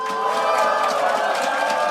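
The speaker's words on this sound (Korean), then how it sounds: "여러분 박수 좀 크게 쳐주세요." A Korean audience at a public talk with a politician claps and cheers loudly, a continuous roar of crowd noise and voices filling the whole stretch without pause.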